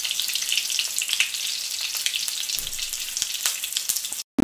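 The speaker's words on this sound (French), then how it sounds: "je vais commencer à faire frire mes poivrons, mes 2 petits piments dans de l'huile d'olive" Bell peppers and two small chilies frying in olive oil for Tunisian ojja, a dense, hissing crackle close up, with faint stirring taps and a brief drop to silence near the end.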